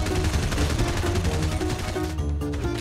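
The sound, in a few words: gunfire in a video game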